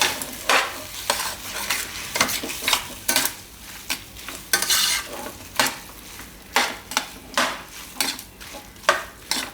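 Boiled noodles for thecha chowmein are tossed and stirred in a pan, giving a steady rhythm of scraping, clattering strokes over a soft sizzle with no talking.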